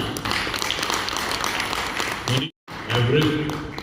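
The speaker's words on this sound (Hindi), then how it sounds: "एक बहुत ताली हो जाए" An audience at a 93.5 Red FM award ceremony applauds with steady, dense clapping that cuts off briefly and then resumes, with a voice speaking over it.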